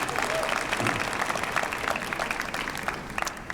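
An audience at a Tarleton fall commencement ceremony applauding to thank family and friends, steady dense clapping from a large crowd in a hall, moderately loud and continuous.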